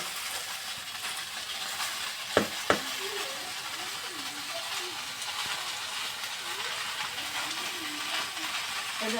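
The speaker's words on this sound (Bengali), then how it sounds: "চামচটা আমি কড়াইয়ের মধ্যে দিয়ে দিলাম ভর্তার জন্য" A spoon stirs a wok for bhorta, where chopped potato and jackfruit seeds fry with a soft, continuous sizzle; two quick metallic clacks sound early on, then light scraping continues.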